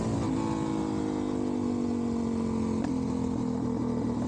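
A Suzuki DRZ400SM motorcycle idling through its stock exhaust, a steady, fairly mellow engine drone heard close up and unbroken throughout.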